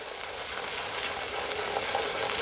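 Okra frying in a hot pan gives a steady, close sizzle with fine crackling that holds evenly throughout, with no voices.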